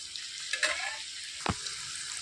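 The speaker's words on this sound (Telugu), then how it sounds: "ఉల్లిపాయలు అనేవి మంచి రంగు వచ్చే వరకు వేయించుకోవాలండి" Onions frying in a pan with ivy gourd, a continuous soft sizzle broken by a couple of sharp stirring scrapes, close and clear with no talking.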